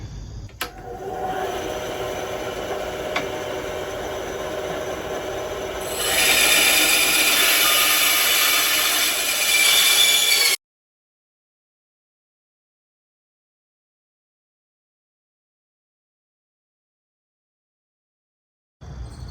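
Saw fitted with a non-ferrous metal blade cutting through the end of an aluminum bed rail for a 2023 Hyundai Santa Cruz, a steady close rasping grind that grows louder partway, then stops abruptly into silence.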